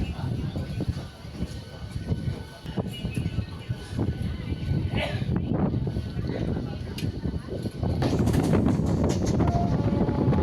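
A local EMU electric train runs from Tiruttani toward Chennai Central, a continuous rumbling clatter of wheels and carriages heard from inside, growing louder near the end, while a person talks over it.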